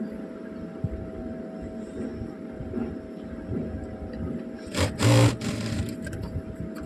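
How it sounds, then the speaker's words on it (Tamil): A sewing machine stitches a puff sleeve with a steady, close, humming whir under a constant mains hum, with a brief louder burst of rattle near the end and no talk. "தையல் போட்டு எடுத்துக்க போகிறோம்"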